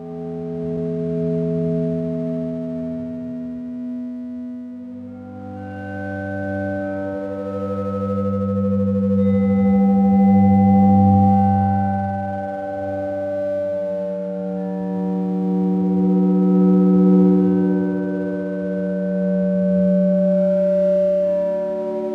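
A sustained, shimmering synth pad built from crystal quartz bowl recordings, layered glassy tones that swell and shift slowly, steady and fairly loud throughout with no voices.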